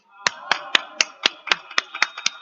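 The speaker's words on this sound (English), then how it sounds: "All in favor, please applaud." Applause at a town board meeting: about ten sharp, evenly spaced claps, fairly close and loud, as from one or a few people rather than a full crowd.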